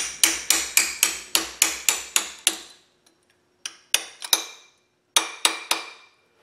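A small-block Chevy V8 timing bolt lock tabs being bent back with light hammer taps, first a quick regular run of about ten sharp metallic strikes, then scattered single and paired taps after a pause, close up with no talking.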